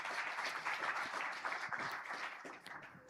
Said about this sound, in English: please let's appreciate him with a warm round of applause